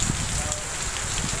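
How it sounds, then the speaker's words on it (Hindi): Heavy monsoon rain pours steadily in a town in Kotsabzal district near the Sindh–Punjab border, a dense continuous hiss with scattered drop patter, loud and unbroken throughout. "ये कोटसवा ज़िले में ज़बरदस्त बारिश हो रही है।"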